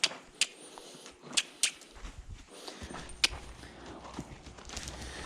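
A horse walks in a rope halter while being long-lined, its hooves clip-clopping in several sharp, distinct strikes at an uneven pace, close by over a low outdoor background.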